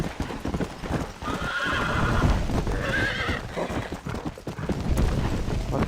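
A horse in the video game Red Dead Redemption gallops with steady clip-clop hoofbeats and neighs loudly twice in the middle, over continuous game noise.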